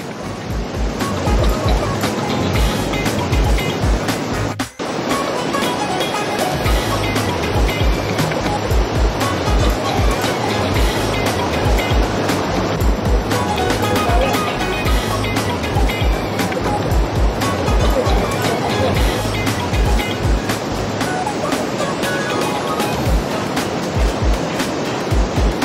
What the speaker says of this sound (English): Julia and Mika both made it up to the waterfall, no problem at all